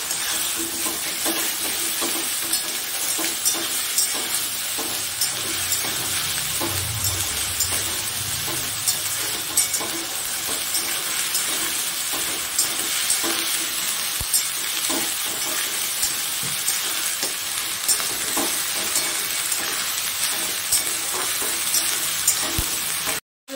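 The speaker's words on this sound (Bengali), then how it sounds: "দিয়ে তোমার আদা রসুনটা খুব কষলো" Ginger and garlic paste frying for Bengali mutton kosha, a continuous loud sizzle and hiss with scattered stirring scrapes that holds steady close by, with no one speaking.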